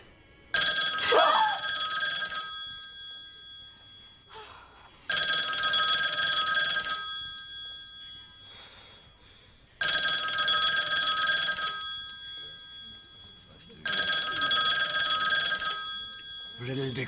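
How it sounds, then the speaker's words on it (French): A telephone bell rings in four loud, evenly spaced bursts, each ring fading slightly before a pause, close by with faint voices under the gaps. "Vous allez le décrocher, ce téléphone?"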